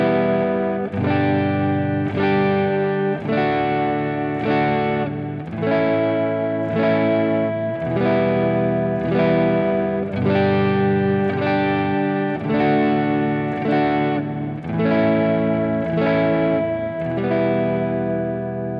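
An acoustic guitar strums open chords in a slow practice pattern, two down strums on each chord, the steady pairs of full, ringing strokes repeating evenly with no talking.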